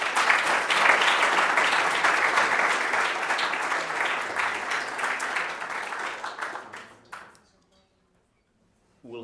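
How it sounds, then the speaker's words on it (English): A large audience at a Caltech Space Challenge final presentation bursts into a warm, dense round of applause that holds steady for about seven seconds, then fades out, leaving near silence. "please welcome them with a warm round of applause"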